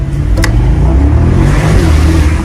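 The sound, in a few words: car engine revving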